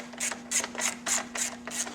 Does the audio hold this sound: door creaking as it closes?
no